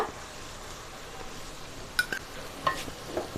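Capsicum, green chillies and sugar are stirred into frying onions in a pan, a soft low sizzle with a few quick clinks and scrapes of the spoon against the pan, close and fairly quiet.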